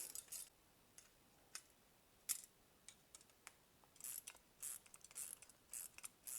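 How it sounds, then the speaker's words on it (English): A ratcheting wrench tightens fasteners while mounting an adventure windshield on a KTM 701 Enduro motorcycle, giving quiet clicking bursts in short irregular runs with brief pauses between them. "I love having ratcheting wrenches."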